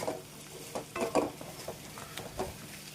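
Okra pieces and onions fry in a pan as a spoon stirs them, giving soft scraping and clattering strokes in bursts over a faint, steady sizzle.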